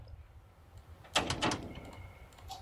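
Someone tries a locked door indoors, a brief burst of rattling and knocking clatter as the handle and door are pulled, set against a quiet background with faint ambient noise.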